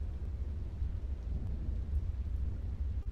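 Steady rain falls on the streets of Valaki Hills while a deep, low thunder rumble rolls on continuously underneath, with no voices.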